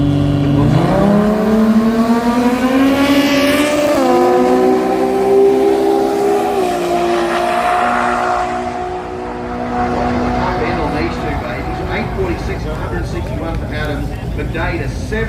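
A drag racing car at a racing jamboree makes a rising, revving engine roar that climbs in pitch and then holds, heard under loud, continuous announcer commentary over a public address system.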